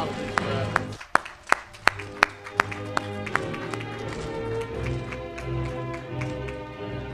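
Audience applauding at a Wake Tech spring graduation ceremony, sharp scattered claps building into steady applause over background music.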